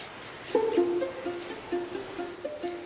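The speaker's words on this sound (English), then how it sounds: "Guam was once home to over 12 native species of forest birds, each with their own unique sound" Native forest birds of Guam give short, clear whistled notes in a loose repeating pattern, each call stepping between two pitches, fairly close and moderately loud over a quiet background.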